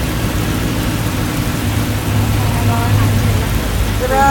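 Heavy rain pours down in Jeddah, Saudi Arabia, as a street floods, giving a loud, steady broadband hiss of water hitting surfaces throughout, with faint tonal sounds near the end.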